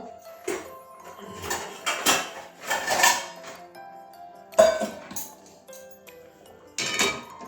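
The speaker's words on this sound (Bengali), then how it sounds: "এবারে নামিয়ে নেবো একটা বাটির মধ্যে ঢেলে নেবো" Cooked moong dal with papaya being tipped from a hot pan into a bowl in a home kitchen: a series of irregular metallic clinks and scrapes of spoon against metal, close by, with short quiet gaps between.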